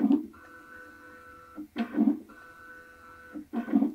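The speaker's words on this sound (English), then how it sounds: "No, it's a metal wheel cutter." A metal wheel cutter machine cuts a titanium Toyota Supra key, giving two steady whirring passes with a tonal hum, each bracketed by short louder clunks as the cut starts and stops, close and clear.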